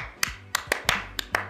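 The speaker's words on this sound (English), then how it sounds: "Everyone will like do the double clap" A film crew claps in quick, sharp bursts, a run of six crisp handclaps falling roughly in pairs over a low background hum, close and clear.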